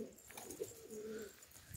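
Domestic pigeon giving a soft low coo, close and faint, one drawn-out throaty call against quiet background.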